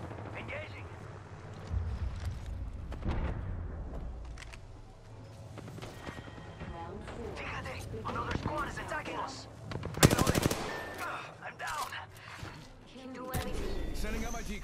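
Video-game gunfire rattles in repeated bursts and single shots amid a busy firefight, one burst loud and close, while players talk over the shooting.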